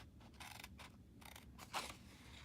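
Scissors snip through the flap of a paper favor box in several quiet, separate cuts, with one sharper snip near the end.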